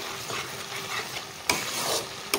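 Ground cumin and coriander stir-fried in a pan with tomato for an eggplant dish, a soft sizzle under brushing stirs and two sharp clacks of a spoon on the pan, close and moderate, no voices.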